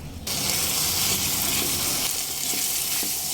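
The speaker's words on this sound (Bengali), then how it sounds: "দিয়ে মিডিয়াম ফ্লেমে আরও তিন থেকে চার মিনিট খুব ভালোভাবে কষিয়ে নিতে হবে" Spice paste for egg korma sizzles and fries steadily in a pan over a medium flame, a continuous loud crackling hiss that starts abruptly and holds throughout.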